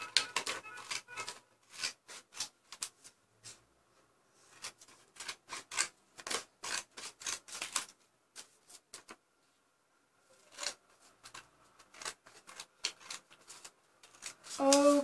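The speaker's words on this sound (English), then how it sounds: "Now all we have to do is cut these three pieces out." Scissors cutting out three craft pieces for a homemade Batman arm guard, heard as crisp repeated snipping in bursts with short pauses, close and fairly quiet, with no talking.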